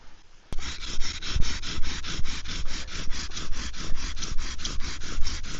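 A bow drill spinning in a rock socket insert, a fast regular back-and-forth grinding rasp of stone and wood with about two strokes per second, loud and close, with no talking.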